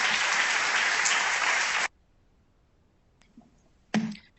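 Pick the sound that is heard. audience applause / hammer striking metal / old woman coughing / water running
audience applause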